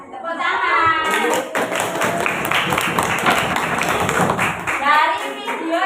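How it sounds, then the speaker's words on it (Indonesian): Children clap their hands together in a dense, sustained round in a primary-school classroom, loud and close, with young voices chattering over the start and end. "Tepuk tangan."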